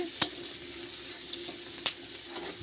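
Soft, steady sizzling of onions frying in oil with dried fish, with a couple of sharp scraping stirs and no talking.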